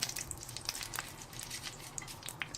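Chana dal sizzling in hot oil in a pan for Chettinad fish kulambu, a steady close crackle with brief sharp pops scattered through it, heard alone.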